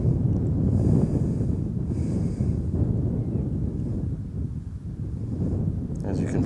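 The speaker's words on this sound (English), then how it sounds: "As you can probably hear, the wind is picking up" Strong wind gusts buffet the microphone outdoors on a disc golf course, a loud continuous low rumble that rises and falls throughout, with no clear talking.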